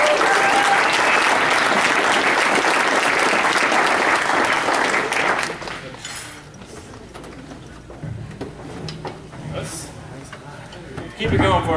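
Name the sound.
audience applause for comedian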